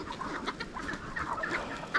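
Chickens clucking outdoors on a farm in rainy weather, several birds giving short, irregular clucks close by over a soft ambient background, with no talking.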